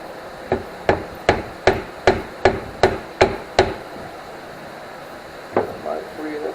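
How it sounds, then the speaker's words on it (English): Eight sharp metallic blows from the butt of a hammer on a seized jet ski engine part ring out in an even rhythm, close by, followed after a pause by another strike and a brief voice. "Maybe we can hit it with the butt of the hammer."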